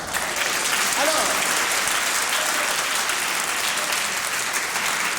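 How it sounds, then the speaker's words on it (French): Studio audience applause at a 1990 French comedy TV show, a dense, steady wash of clapping that stays loud and even throughout with no voices over it. "nous l'accueillons ce soir dans un tonnerre d'applaudissements."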